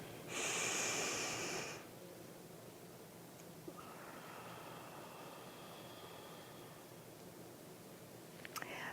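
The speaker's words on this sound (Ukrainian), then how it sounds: "ми дихаємо тільки носом, затримуємо дихання, видихаємо, затримуємо дихання" A person does a nasal breathing exercise: one loud, sharp inhale through the nose, then a long, quiet stretch of held breath or soft exhaling, faint and close.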